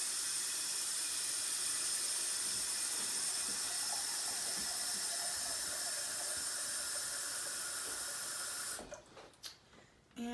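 Cold water runs from a kitchen tap into a pot in a steady, loud hiss for most of the clip, then shuts off into a few faint clinks and drips.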